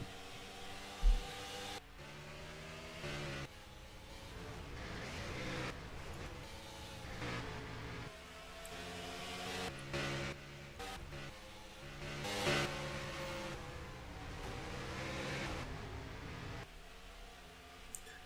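NASCAR Xfinity Series race cars roaring around the Dubai track in a video game, engines rising and falling as cars pass, with sharp cuts between camera views and a few thumps, no voices.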